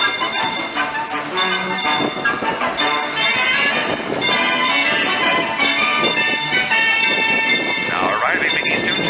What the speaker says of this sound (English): please remain seated till the train comes to a full stop